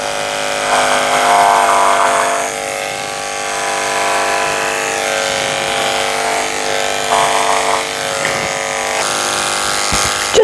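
Electric clippers with a number 7 blade shaving down a Pomeranian mix at a grooming table, a loud steady buzzing drone whose pitch shifts slightly as the blade moves through the coat, close and continuous with no talking.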